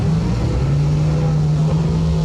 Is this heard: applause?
no